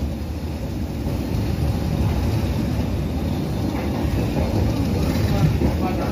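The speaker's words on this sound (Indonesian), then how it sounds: "kereta mulai menanjak ya" A passenger train on the Cibatu-to-Bandung line climbs uphill, giving a steady, dense rolling rumble with a faint hiss throughout and no clear voices.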